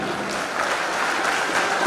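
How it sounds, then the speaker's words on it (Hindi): Loud applause from a crowd for the children at a karate championship event, a steady, dense wash of clapping that holds at an even level for a couple of seconds. "तो एक बार मेरी ओर से सारे बच्चों के लिए जोरदार ताली।"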